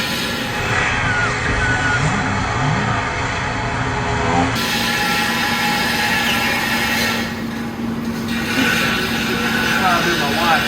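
A slow-running power tool cuts a metal bracket while a methanol fuel system is being relocated, making a continuous grinding whir with uneven bursts over a steady motor drone.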